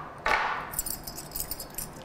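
A non-original key slides into a lock cylinder with a short metallic scrape, followed by light jingling and clicking of metal pins, close and quiet with no talking.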